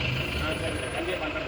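Steady road traffic at a highway toll plaza with trucks queued, a continuous broad rumble of engines and road noise close by, with a faint high tone running through it.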